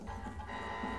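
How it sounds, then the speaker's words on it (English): A continuous electronic alarm goes off in a TV drama, triggered by a radio frequency monitor when it is cut from a leg; a steady buzzing tone with a busy mechanical texture persists throughout at moderate level. "Did the alarm go off because they cut it off his leg?"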